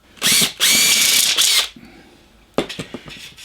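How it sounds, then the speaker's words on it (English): A drill bit bores a hole through thin metal shim in loud, close bursts of whining, grinding noise, followed by a pause and a few short rattling scrapes. "a little bit of a shim like this, if I just drill a hole through it"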